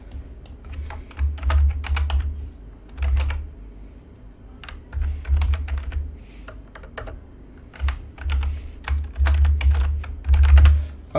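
Steady typing on a computer keyboard while building an Android app, quick clusters of close keystrokes with short pauses between bursts, alone without speech.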